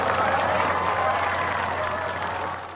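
Steady, loud applause from a golf gallery at the final round of the 2019 BMW Ladies Championship, a dense wash of clapping sustained for nearly three seconds before tapering slightly at the end.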